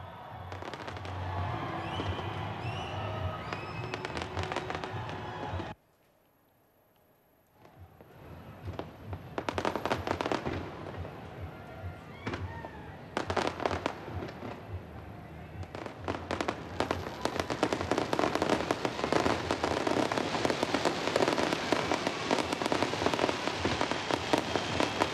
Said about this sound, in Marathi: रात्री 12 वाजताच्या ठोक्याला डोळ्याचं पारणं फेडणारी रंगीबेरंगी आतषबाजी या ठिकाणी करण्यात आली